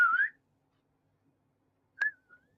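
A person whistles two short rising notes separated by a pause of silence, close and clear, with a faint trailing tone after the second.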